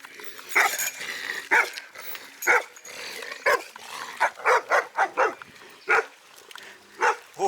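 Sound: dogs barking

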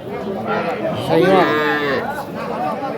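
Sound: young Sahiwal or local calf mooing at cattle market

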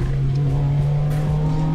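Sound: car cornering fast on a mountain road

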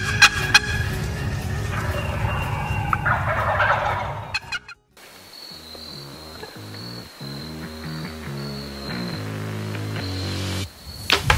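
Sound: wild turkey gobbling

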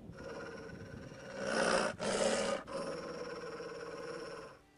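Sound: dog growling in The Witcher video game

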